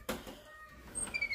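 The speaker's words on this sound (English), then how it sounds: "I have a cat that does not need to be in there." House cat in a home pantry gives a short, faint meow, followed by a higher, wavering mew amid quiet rustling.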